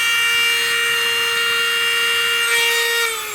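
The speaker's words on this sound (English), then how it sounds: "It's just a Dremel, just a Dremel with a cut-off wheel." A Dremel fitted with a cut-off wheel cuts into a vintage 1959 Jouef HO scale model wagon, a loud continuous high-pitched grinding whine with a steady tone that dips slightly as it ends.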